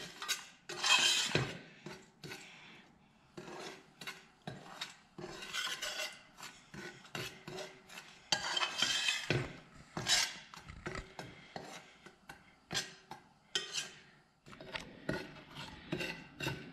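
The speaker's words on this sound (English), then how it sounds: "you have to keep stirring your semolina till it turns into" A utensil scrapes and stirs semolina frying with a cinnamon stick in a saucepan, making repeated gritty rasping strokes in an uneven rhythm, fairly close but quiet.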